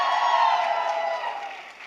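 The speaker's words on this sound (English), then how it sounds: "Let's give a round of applause." An audience at a campaign rally for New York's governor applauds and cheers, a dense, loud wash of clapping and voices that slowly fades over two seconds.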